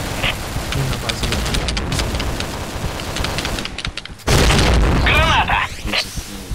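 A grenade goes off in the online shooter Point Blank as a loud, sudden boom that gives way to a dense rumbling roar, with gunfire crackle before it and speech-like voices underneath.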